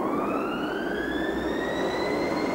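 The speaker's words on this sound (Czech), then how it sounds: "Pro všechny členy osádky je vysílán výstražný signál." A loud, continuous rising warning tone sounds for the crew inside a T-72 tank, a steady electronic wail that climbs gradually in pitch over constant mechanical noise.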